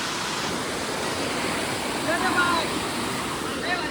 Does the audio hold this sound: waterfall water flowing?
yes